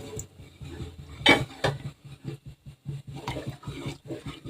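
Kurdai wheat batter stirred in a pot, making a steady, close rhythm of soft scraping and sloshing strokes with an occasional louder clank of the utensil against the pot.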